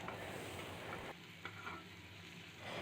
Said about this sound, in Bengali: সেই পেঁয়াজটাকে দিয়ে ভালো করে লাল করে ভেজে নেব।